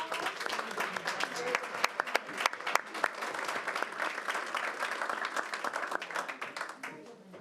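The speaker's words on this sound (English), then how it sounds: "Another round of applause." Applause at a school board meeting, a room full of people clapping steadily for several seconds with scattered sharper claps, fairly distant and moderate, fading off at the end.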